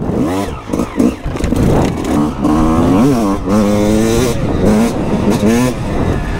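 A motorcycle accelerates hard, its engine rising and falling in pitch through several revving surges, loud and close throughout the run.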